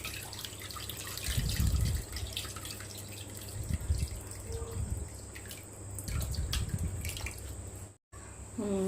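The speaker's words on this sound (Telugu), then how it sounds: "ఇలా పులుసు పోసుకోవాలి." Fish curry gravy is poured into a pan, giving a soft liquid splashing and trickling that comes in a few brief bursts over a steady low background hum.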